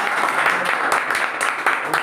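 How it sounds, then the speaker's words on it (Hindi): An audience breaks into continuous applause, a dense patter of many hands clapping together, fairly loud and steady throughout. "जरा उनके नाम पे ताली बजा दीजिए"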